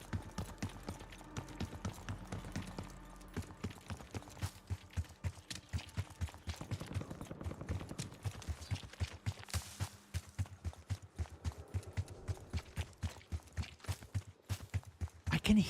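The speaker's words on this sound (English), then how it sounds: "I can hear the echo of the footsteps against the wall." Footsteps echo against a wall in the video game Delta Force, a rapid, regular run of close, sharp steps carrying on steadily throughout.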